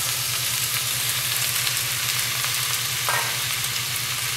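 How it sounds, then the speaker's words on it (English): Mushrooms fry over caramelized onions in a pan for poached egg puttanesca, giving a steady close sizzle with a low rhythmic hum underneath and a brief stir, no talk. "I'm going to add my mushrooms"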